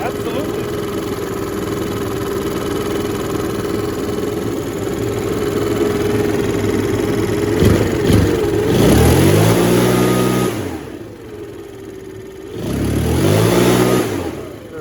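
Makita EB7660TH backpack leaf blower engine, idling steadily up close and then revving hard twice in rising surges, dropping back to idle between them, while someone talks over it.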